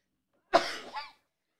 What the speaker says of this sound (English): I have to sneeze, so I apologize in advance.